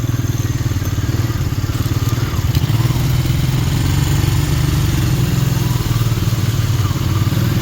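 A four-wheeler ATV engine idles and putters slowly through the woods in fall, a loud, close, steady throb with a rough clatter.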